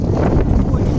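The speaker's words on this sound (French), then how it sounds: "On a du mal à lancer, il y a trop de vent." Heavy wind buffets the microphone in a dense, loud rumble during an extreme-conditions fishing session, steady and close throughout the brief moment.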